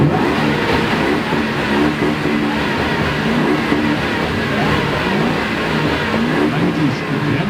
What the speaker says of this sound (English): You want to give them a rev?